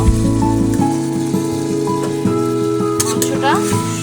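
Chicken hits a hot pan and sizzles loudly and steadily, a close, dense frying hiss with a low hum beneath and faint clinks of stirring.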